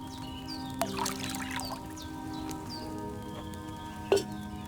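Liquid, wine, pours in a steady splashing trickle into a cauldron in Kingdom Come: Deliverance, over a faint hum and light game sounds, with a couple of sharp clicks along the way.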